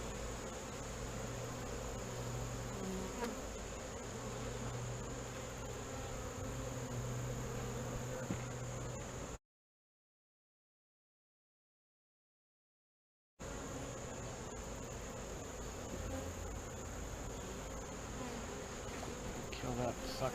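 Honey bees buzz steadily inside an open hive during an inspection, a dense, continuous drone with a low hum beneath it that breaks off for a few seconds partway through and then resumes.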